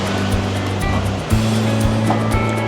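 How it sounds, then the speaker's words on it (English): Caribbean ocean surf washing onto a beach at a resort in St Maarten, a continuous loud rush with waves breaking and receding, heard close by. "it's very nice sitting here hearing the ocean"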